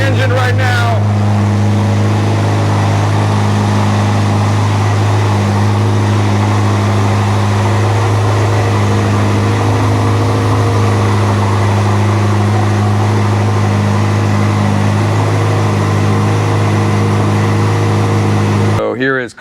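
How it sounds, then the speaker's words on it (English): A Ferrari SF90 engine on a cold start settles into a loud, steady low drone with strong, even tones running throughout, before cutting off abruptly at the end. "So we got a cold start. Let's hear the engine right now."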